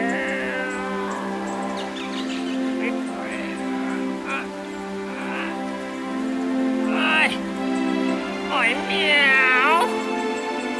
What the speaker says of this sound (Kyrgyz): Каптагы баягы мышык мыйолой берип чарчайт.